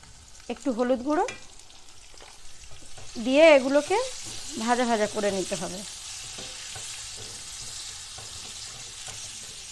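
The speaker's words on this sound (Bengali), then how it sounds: "ওর মধ্যে আলুগুলো দিয়ে দেব এগুলোকে একটু হালকা করে ভেজে নিতে হবে" Potatoes fry lightly in a pan with a soft, even sizzle running throughout, while a voice briefly sounds out a few times over the quiet hiss.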